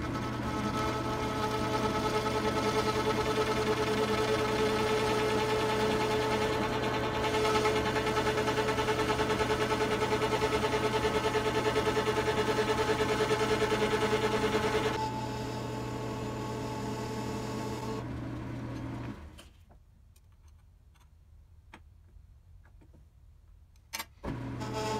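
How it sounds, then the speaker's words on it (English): Lathe turning a knurled part on a tailstock die holder, cutting decorative grooves: a steady loud mechanical whine and hum for most of the span, easing slightly midway, then dropping to near quiet with a few faint clicks at the end. "cut just a series of decorative grooves in here just to break up this long looking knurled part"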